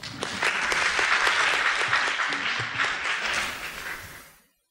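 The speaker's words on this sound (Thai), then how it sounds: "ขอเสียงปรบมือต้อนรับครับ" Audience applause welcoming a speaker at a Thai genomics conference, a dense crowd clapping steadily and loudly for about four seconds before fading out quickly.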